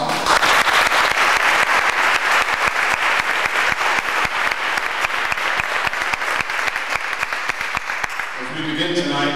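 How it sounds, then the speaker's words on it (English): A full audience at a mayoral debate in an elementary school applauds, loud dense clapping throughout with some voices mixed in, cutting off near the end. "Let's give everyone a round of applause."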